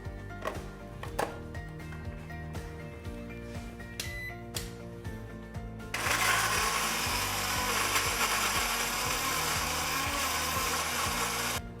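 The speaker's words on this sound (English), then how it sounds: "So we put all the tomato and onion together, and then we are just going to smash it." Tomato and onion being smashed into a paste: a few scattered knocks and taps first, then a loud, continuous grinding whir that runs steadily to the end.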